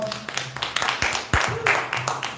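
Applause from a live comedy show audience of parents with children, a scattered, thin round of clapping under someone talking over it.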